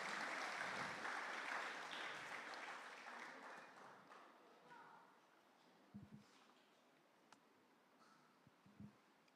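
A church congregation at a New Year worship service applauds loudly at first, the clapping fading to a few scattered claps, with faint voices in the background.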